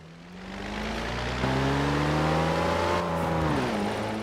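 Mercedes-Benz 4.5 litre engine in Forza Horizon 4 revving up loudly, its pitch climbing in steady steps and then dropping back, with a sustained, close and unbroken engine roar and no talk.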